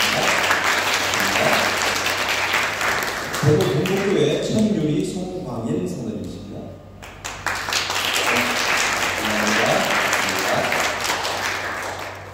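A church congregation applauds in a Sunday worship service, with dense clapping that pauses while a man announces a guest by name, then resumes strongly.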